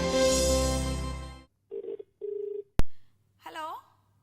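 A telephone call connects on a radio phone-in show: a loud ringing tone, then short electronic beeps and a sharp click, followed by a brief burst of a voice.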